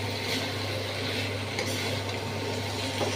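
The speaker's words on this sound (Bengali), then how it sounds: "ভালো করে নাড়ছি" A prawn curry with vegetables and onion shoots is stirred in a pan over medium-low heat: continuous scraping and shuffling of a spoon against the pan over a light sizzle, close and steady with no voices.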